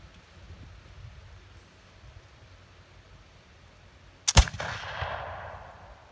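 A wheel lock pistol loaded with 4F powder and fired by iron pyrite goes off in a single sharp, loud report, followed by a brief hissing, smoky tail. The shot comes after several seconds of quiet outdoor background.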